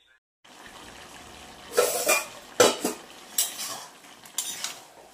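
A tomato being cut on a board in a home kitchen, several short knocks and scrapes of the knife spread unevenly over a faint background hum, close and moderately loud.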